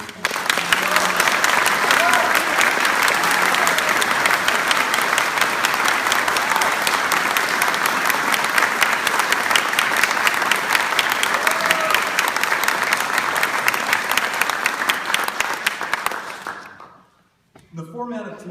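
Sustained, full applause from a debate audience in Hutchinson greeting a congressman, a thick steady roar of clapping lasting about sixteen seconds before cutting off, with a faint voice starting afterward.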